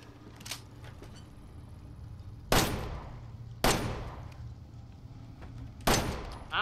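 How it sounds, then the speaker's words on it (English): Three sharp, loud video game gunshots spaced a second or two apart, each a sudden crack with a short decay, over a low steady background hum. "I don't think gunshots works on it."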